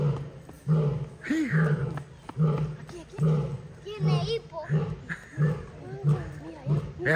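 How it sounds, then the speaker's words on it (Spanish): Lions roaring at the North Carolina Zoo, deep repeated roars in a steady rhythm, with adults and children talking over them. "Esos son los rugidos."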